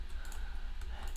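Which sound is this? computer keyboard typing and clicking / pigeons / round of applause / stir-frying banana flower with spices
computer keyboard typing and clicking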